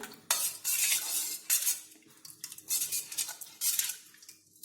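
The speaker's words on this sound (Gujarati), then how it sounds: "આ રીતે બધું બરાબર મિક્સ કરી લઈશું." A spoon stirs fennel sharbat sweetened with sugar syrup, clinking against the glass in quick repeated bursts with brief pauses between strokes, close and fairly loud.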